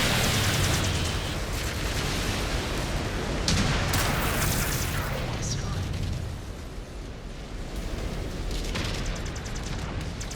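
A battlefield explosion as a mech blows up in the MechWarrior 5: Clans video game, a loud sustained rumbling blast with crackling debris that fills the scene, with a voice talking over it.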